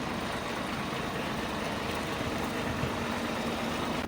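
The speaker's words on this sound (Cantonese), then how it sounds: "LM 咧都係用咗呢個嘅康明斯引擎，推動力強" A Citybus LM double-decker with a Cummins diesel engine runs with a steady, dense low rumble and broadband roar, continuous and fairly loud throughout with no speech.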